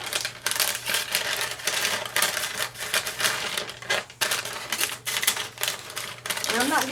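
Scissors cut through a paper lunch bag, giving a series of quick crisp snips and paper rustles in an uneven rhythm, close up and with some talking mixed in.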